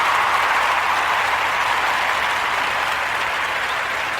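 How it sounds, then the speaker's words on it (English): A live audience applauds steadily throughout, a dense, even wash of clapping at an announcement during a speech, loud and sustained with no talk over it. "And people they're just standing up and cheering."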